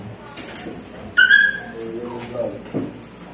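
Pet dogs whimper and let out short yips close by, a thin high whine followed by scattered soft squeaks and small yelps.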